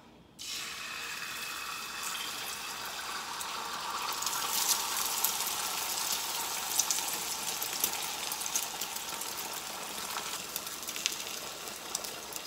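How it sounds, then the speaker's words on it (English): A steady, bright hiss of an egg sizzling in a pan runs without a break for several seconds, close by, with no voices over it. "If you guys can hear that sizzling sound, that is the egg cooking"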